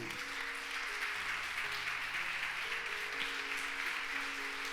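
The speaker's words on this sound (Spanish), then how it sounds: "Dale un aplauso al Señor." A church congregation applauding during a Spanish-language sermon, a steady wash of clapping that holds at an even level throughout, with faint sustained organ or keyboard tones underneath.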